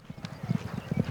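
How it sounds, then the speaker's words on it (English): Hooves of a herd of horses clip-clopping on a frosty May morning in western Colorado as cowboys gather and sort them for a horse drive; a steady run of close, overlapping hoofbeats with no talk. "and the horses are frisky"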